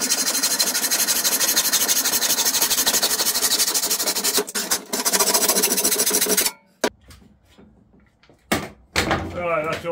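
Wooden feet being sawn off a work platform: a loud, steady rasping of rapid saw strokes up close for several seconds, then it stops, leaving a few scattered knocks and handling noises.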